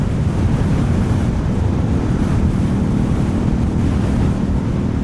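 Strong wind blowing across an open roadside beside rice paddies, a steady loud roaring rush buffeting the microphone with no letup.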